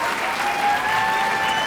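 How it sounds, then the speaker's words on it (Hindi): Audience applause for an engaged couple at a gathering, a short burst of dense, even clapping heard alone at close range. "तो आइए इन दोनों के लिए जोरदार तालियां बजाते हैं, ज़ैनब और उमर।"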